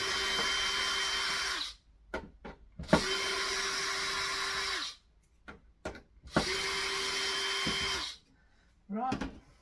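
A jigsaw cuts through scrap wood to form a toolbox handhold in three loud, steady bursts of a few seconds each. Short pauses separate the bursts, with handling knocks and brief talk in the gaps.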